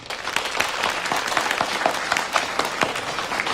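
Meeting attendees clap to welcome a new colleague, a steady burst of applause from a roomful of people that carries on evenly to the end with no speech over it.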